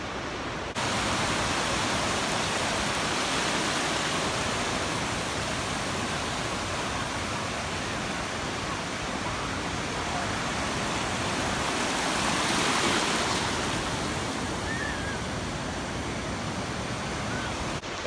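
Ocean waves wash continuously onto the shore at Pismo Beach, a steady broad roar of surf with a swell rising midway, loud and enveloping, mixed with some wind.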